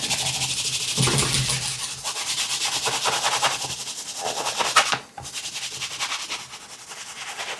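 Buffing polish off a handmade business card wallet, a steady dry rubbing and sanding-like friction that runs continuously and fairly close, with a brief dip near the end.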